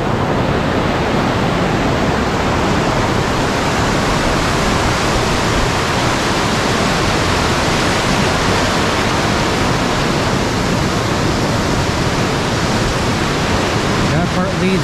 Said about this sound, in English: That part leads to the huge waterfalls that you just witnessed.